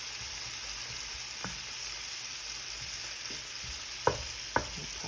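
Unsalted butter cooking in a skillet on medium heat gives a soft, steady sizzle, with a few sharp pops and spoon clicks near the end, close by and without speech.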